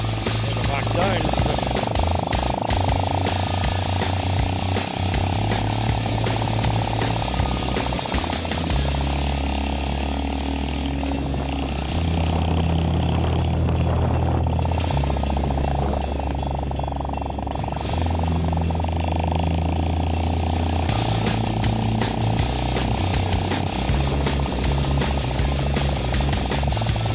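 A Honda Cub 90 motorcycle's small engine runs steadily through a housing estate, its low drone stepping up and down in pitch as gears shift on an uphill climb, loud and close with constant wind and road noise.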